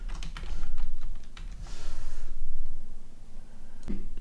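Fingers type on a computer keyboard, with quick clustered keystrokes in several bursts, close and fairly loud, separated by brief pauses.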